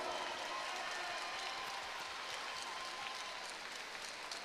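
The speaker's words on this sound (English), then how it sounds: "give him and his brother a massive round of applause" Crowd applause at a Front Street Fights combat sports event for fighter Taylor Copeland, a continuous wash of clapping and crowd noise, steady and somewhat distant.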